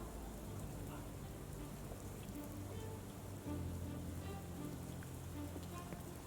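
Steady rain in the game Sherlock Holmes: The Awakened, a dense, even hiss of drops pattering on surfaces that stays constant throughout, soft and enveloping, with no voices.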